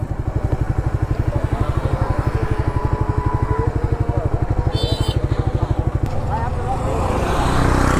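A Yamaha R15 V3 motorcycle engine throbs in a fast, steady, close-up pulse while riding, with a brief high chirp midway and the tone smoothing into a broader roar near the end.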